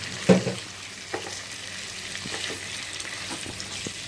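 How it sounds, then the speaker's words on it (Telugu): Andhra-style fish pulusu stirred in a pan with a ladle: one sharp clatter of metal at the start, then a soft, continuous simmering sizzle with a few faint scrapes. "ఇప్పుడే వేసాము కాబట్టి గరిటెతో కలపచ్చు."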